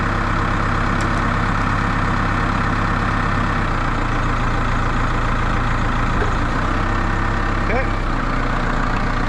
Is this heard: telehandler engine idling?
yes